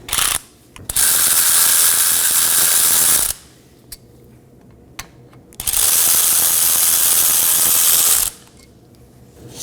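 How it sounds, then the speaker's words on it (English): A hand ratchet loosens the two 14mm brake caliper slider pin bolts on a 2015–2023 Nissan Maxima, two long loud bursts of rapid clicking separated by a quieter pause with a few isolated clicks, close and alone. "Now I'm going to locate my two 14mm slider pin bolts and remove these to separate the caliper from the bracket."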